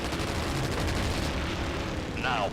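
Cannons shell a fort in the Wings of War video game, a dense, continuous rumble of booming fire with a short rising tonal whistle near the end.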